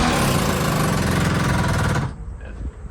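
A power tool hammers hard and continuously for about two seconds during removal work on an HVAC boiler installation, loud and close, then stops abruptly, leaving quiet background noise.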